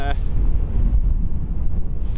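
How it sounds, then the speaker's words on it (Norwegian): Winter wind blows straight in at an exposed stop on a snowy trek, a steady low rumbling roar buffeting the microphone throughout, loud and close. "her er det jeg merker at vinden kommer egentlig ganske rett inn akkurat her"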